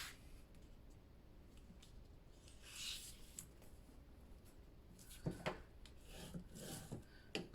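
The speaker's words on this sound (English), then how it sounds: "Burnish it" Paper burnished by hand while making a gate-fold mini album, quiet scattered rubbing and scraping strokes, with a denser run of firmer rubs near the end.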